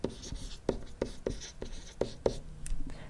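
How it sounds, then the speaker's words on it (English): A marker or pen taps and scratches in short, quiet strokes while an equation is written out by hand, a soft irregular rhythm with no speech over it. "so I'll write it above"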